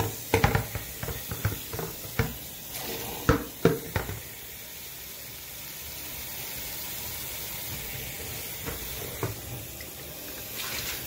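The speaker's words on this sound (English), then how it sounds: "now I'm fixing the water to lukewarm to rinse it" Lukewarm tap water runs into a sink while a cotton mask is rinsed, with a steady water flow and scattered sharp splashes and handling knocks, loudest in the first few seconds.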